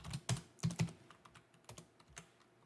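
Typing on a computer keyboard, with a handful of close, crisp key clicks in an irregular rhythm and a few stronger strikes near the start before lighter taps trail off.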